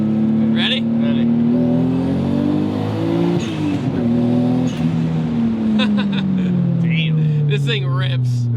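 A turbocharged Nissan 240SX engine pulls hard on a dyno, a loud sustained drone climbing in pitch then dipping and building again, with people talking over it.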